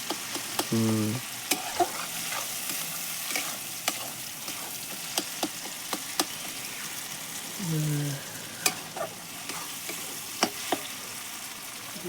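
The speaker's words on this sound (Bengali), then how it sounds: "মশলাটাকে ভালো করে কষাতে হবে" Spice paste fries in a pan for a dal-posto fish dish, a low steady sizzle with sparse clicks and scrapes of the spoon stirring, while voices talk briefly in between.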